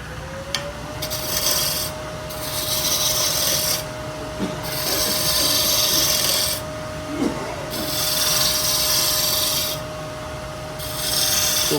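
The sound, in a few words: spindle roughing gouge turning wood on a lathe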